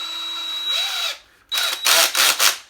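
A DeWalt cordless drill driver whirs in several bursts, first a steady run, then a pause and a series of short revving pulses, loud and close.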